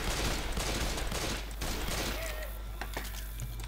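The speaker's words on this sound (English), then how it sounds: "I'm just gonna shoot everything." Rapid gunfire in Left 4 Dead 2 crackles in a dense burst of overlapping shots, then thins into scattered cracks and faint mechanical clicks toward the end.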